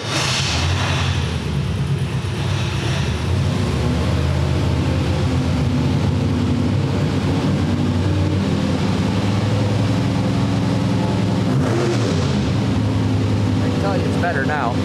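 An old-school small-block Chevy V8 with eight-stack injection, built for a Fiat drag car, runs steadily and loudly nearby with a deep, sustained roar for the whole stretch while a person talks over it.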